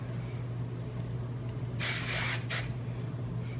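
Kenra shine spray misted onto hair, two short aerosol bursts, the first longer than the second, close and fairly loud over a low background hum.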